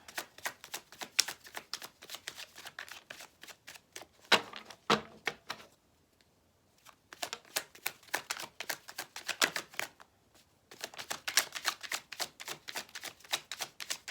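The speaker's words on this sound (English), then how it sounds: "I'm trying to look at the cards now while I'm shuffling" Repeated bursts of crisp riffling as a tarot deck is shuffled close up, with brief quiet pauses between rounds.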